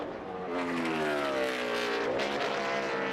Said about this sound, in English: Heard him downshift to second gear.